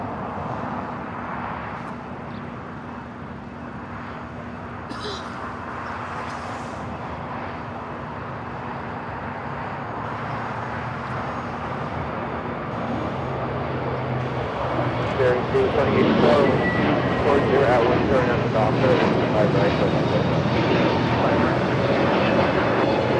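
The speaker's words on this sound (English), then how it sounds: "Next takeoff is Spirit, flight 2597, heading to Baltimore in an A321 Neo" A Spirit Airlines Airbus A321neo bound for Baltimore takes off at Los Angeles International Airport, its engine roar building steadily from a distant rumble to a loud, sustained thrust over the final seconds.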